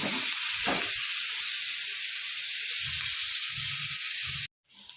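Chopped onion sautéing in a pan, a close, steady hissing sizzle with a few faint low knocks underneath, running continuously and stopping abruptly near the end.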